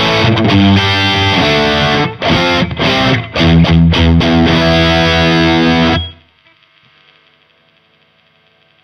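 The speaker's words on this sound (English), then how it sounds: "I'm going to hit the full-on lead channel now just to prove my point even further." Electric guitar with a Kinman bridge pickup played through a high-gain lead channel, loud and heavily distorted with sustained chords and sharp breaks, then cutting off to a faint amp hum for the last few seconds.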